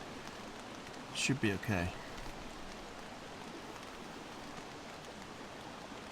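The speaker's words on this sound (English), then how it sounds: "Not paying any attention to the rain at all." Steady rain patters on a tent and tarp at a soft, even level throughout, and a brief spoken remark passes near the start.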